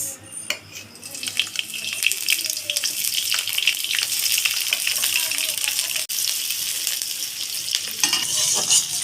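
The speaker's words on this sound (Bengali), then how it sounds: "অল্প তেলে ভাজা নিতেছি কাঁচামরিচ আর পেঁয়াজ" Green chilies and onions frying in a little oil in a hot pan, a steady close sizzle with stirring scrapes throughout, some watery splashing mixed in.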